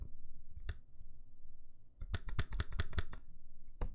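Spacebar on an Iron165 mechanical keyboard fitted with NovelKey Cream switches, pressed in close, crisp clicks: a lone press, a pause, then a quick burst of several presses followed by one more, under a low background hum.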